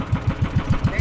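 A boat engine runs with a steady low chugging pulse, about six or seven beats per second, close and loud.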